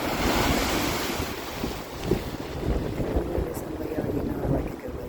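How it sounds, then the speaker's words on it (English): Wind-driven lake waves surge and wash steadily on a blustery day, a loud, continuous roar of surf mixed with buffeting wind noise on the microphone. "to check out the waves"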